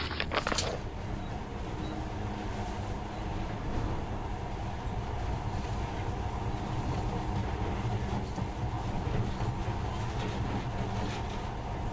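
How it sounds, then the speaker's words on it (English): A monorail train runs in the video game Metro Last Light Redux, a steady loud rumbling rail drone with a brief sharp clatter at the start, continuing unbroken without speech. "In the past, trains were ordinary things. But now, this monorail seems magic, doesn't it?"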